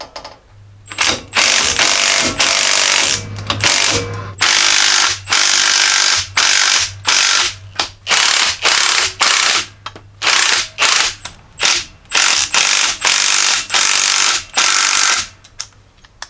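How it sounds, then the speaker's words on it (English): Ratchet wrench loosening the coil spring compressors on a strut from a 2016-2021 Jeep Grand Cherokee, heard up close as loud bursts of rapid clicking, separated by short pauses and repeated throughout with no talking. "start slowly loosening up all the coil compressors evenly"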